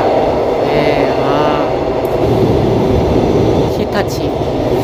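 Nuriro train pulling into Ilsin station, heard from inside the front car: a steady, loud rumble of wheels and running gear with a few brief higher squeals, while someone speaks over it.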